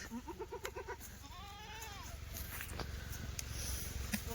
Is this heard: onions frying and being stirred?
no